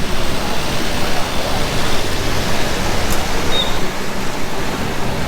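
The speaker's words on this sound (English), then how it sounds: "the wind can be crazy" Strong wind buffeting hard on an island coast near the ocean, a loud, constant roar of rushing air battering the microphone with no letup.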